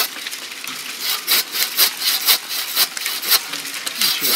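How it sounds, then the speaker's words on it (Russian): Rhythmic rasping strokes of a hand saw cutting through cherry tree wood, steady back-and-forth pulls at close range, with no talking. "Папочка будет пилить вишню."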